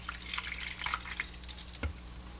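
Water drips and trickles from a drain pipe just removed from under a bathroom sink clogged with hair, a few soft irregular splashes close by against a quiet indoor background.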